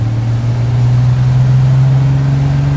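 A car engine idles after its first cold start of the year, a loud, steady low drone close by with no speech.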